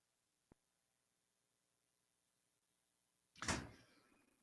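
A single door slams shut indoors, a sharp thud with a short rattling decay, coming after a faint tap and a near-silent stretch.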